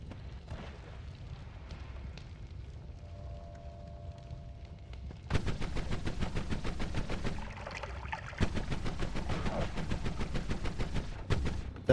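A sniper shotgun firing in the video game Noita, a quiet stretch giving way to a rapid run of sharp, crackling blasts with dense rumbling impacts, loud and close.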